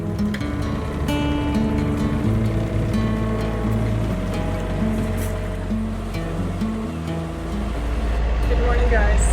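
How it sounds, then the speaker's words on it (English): A sailboat's engine drones steadily with water rushing along the hull while motoring on a lake on the way through the Panama Canal, the low rumble continuous and close throughout. "Right now we are motoring in the lake."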